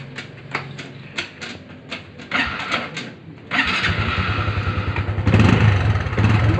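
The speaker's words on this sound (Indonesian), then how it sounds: "kita dengar bunyi enjin dia dulu" A Honda Wave 110 motorcycle engine, about three years old with roughly 13,000 km, starting up and idling close by, with sharp mechanical clicks early on before a steady, throbbing idle that grows louder and rougher toward the end.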